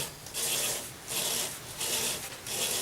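Wet sanding a spalted mango wood vase with 1200 grit paper, heard as four rhythmic rasping strokes that swell and fade, close and steady with no talking.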